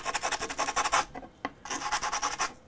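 Sandpaper rubs a 3D-printed part in quick back-and-forth strokes, a rhythmic scratchy rasp that stops briefly partway through and then starts again at the same pace.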